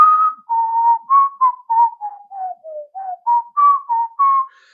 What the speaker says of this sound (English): And they've got the whistling going on there.